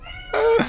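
A single short, close cat meow rises and falls in pitch over faint background hum.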